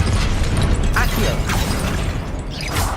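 Accio summoning spell effects in Hogwarts Legacy, with rumbling, popping magical whooshes pulling statues in, under a continuous loud game soundscape.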